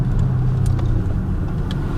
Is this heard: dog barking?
no